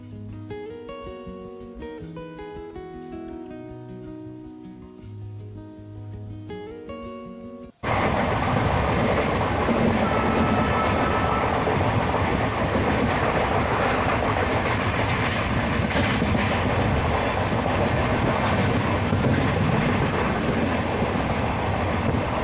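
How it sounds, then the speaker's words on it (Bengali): After a short stretch of music, a train rolls slowly along the tracks near Santragachi, a loud steady rumble with rattling wagons and clacking wheels. "ট্রেনটা যথেষ্ট আস্তে আস্তে এগোচ্ছিল"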